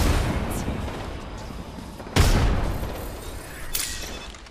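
A grenade bursts in an Apex Legends firefight, a sharp loud boom at mid-clip over steady gunfire and battle noise, with a smaller crack following shortly after.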